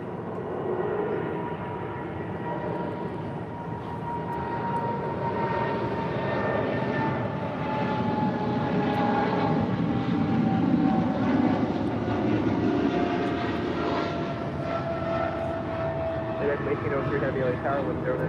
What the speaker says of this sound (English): That was DHL, operated by Polar Air Cargo, Flight 962, departing to Cincinnati on a 777 freighter